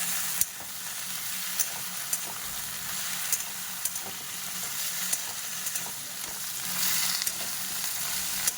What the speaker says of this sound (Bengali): আমি কলাটা দিয়ে নেবো দিয়ে হালকা ভেজে নেব